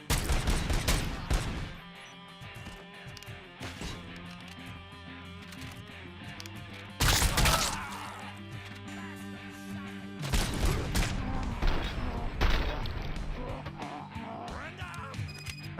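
Shotgun blasts in RoboCop: Rogue City, loud broadband bursts at irregular intervals amid rattling gunfire and crashing impacts, with heavier booms around the middle and later stretches over a droning game backdrop.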